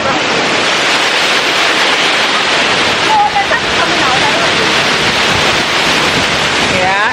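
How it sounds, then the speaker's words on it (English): A waterfall in Ghana, viewed from above during a hike, roars as a loud, steady broadband rush of falling water that fills the whole stretch, with faint voices briefly audible beneath it. "So take a look at the waterfalls from above."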